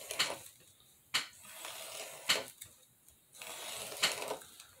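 A blade slicing chunks off a piece of wood for a miniature house, heard as four sharp, close cutting strokes spaced about a second apart, each followed by a brief scraping tail, with no talking.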